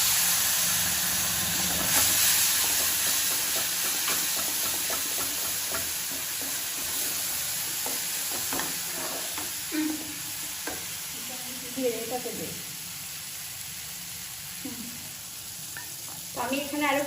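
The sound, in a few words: spices frying in a pan for potol curry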